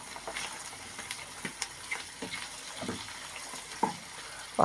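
Mushrooms frying with local farm butter in a pan while preparing a béchamel pasta tray, a steady soft sizzle with scattered pops and crackles, close by and fairly quiet, with no talking.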